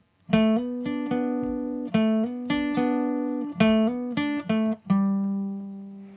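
A solo guitar plays a clean melodic line of plucked notes, some sliding smoothly into the next by hammer-on, ending on a sustained ringing note.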